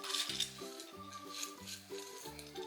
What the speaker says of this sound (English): Now we gotta stir it up again.